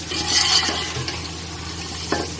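Boiled chickpeas fry with masala in a pan for chana pulao, giving a steady low sizzle with occasional scraping stirs and light clinks of utensil on metal. Moderately loud and close, with no talking.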